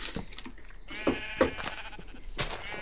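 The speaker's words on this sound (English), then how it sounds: "Go away, sheep" Sheep bleating in Minecraft, a few short bleats from the game's farm animals that stand out clearly over a quiet background.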